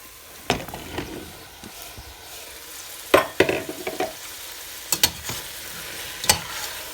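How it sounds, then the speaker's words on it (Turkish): Green beans with potatoes and mint sautéing in a pan, a soft background sizzle broken by scattered sharp clatters and scrapes of stirring, with loud knocks near the three- and five-second marks. "Bir 5 dakika kadar kavurmamız gerekiyor fasulyeyi bu aşamada"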